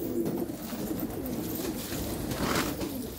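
Pigeons coo softly in repeated low, rolling calls, close by and steady against faint outdoor background noise.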